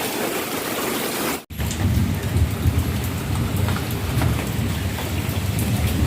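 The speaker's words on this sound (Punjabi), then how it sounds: "ਇੱਧਰ ਕਿੰਨਾ ਮੀਂਹ ਪੈ ਗਿਆ ਗੱਡੀਆਂ ਖੜੀਆਂ ਨੇ" Heavy rain pours down in a dense, steady hiss, loud and close, broken by a sudden brief cut near the start before the downpour continues unabated.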